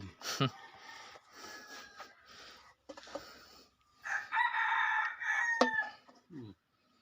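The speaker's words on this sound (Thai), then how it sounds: "ไก่ร้อง" A rooster crows loudly nearby in a long, rising-and-holding call, with other fowl clucking around it and people talking before and between the crows in a rural Thai setting near a rice harvester.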